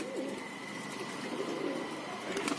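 Low, soft coos from fancy pigeons at a breeding setup repeat steadily against a dense, continuous background murmur, fairly close and moderately loud throughout.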